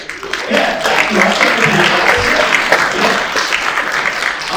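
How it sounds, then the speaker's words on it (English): Comedy club audience applauding during a stand-up set, a steady dense wash of clapping from a packed room, loud and sustained throughout with faint voices mixed in. "take those pity claps whenever I can get them. It's cheap applause."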